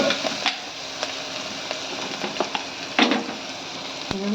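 Onions frying in a pot for a moong dal tomato curry give off a steady, close sizzle, broken by a few light clinks and stirring scrapes.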